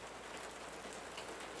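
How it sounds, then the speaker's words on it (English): Steady rain falling and pattering on surfaces, a soft, even hiss of many droplets with no other sounds over it. "Can you hear the rain?"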